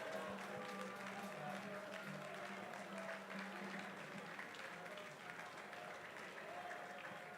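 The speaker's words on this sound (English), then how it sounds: "a round of applause to St. Augustine's College" A large audience gives a steady, sustained round of applause for the St. Augustine's College team at a national science and maths quiz grand finale, the dense clapping running unbroken from start to finish with faint voices mixed in.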